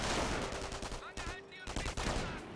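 Machine gun fire from a base MG in the Company of Heroes 1 strategy game, a dense run of rapid overlapping bursts mixed with other battle noise, loud and continuous with brief dips.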